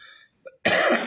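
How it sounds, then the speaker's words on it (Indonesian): A brief tonal vocal sound gives way to a short click, then a single sharp cough bursts out loudly near the end. "ya Allah batuk"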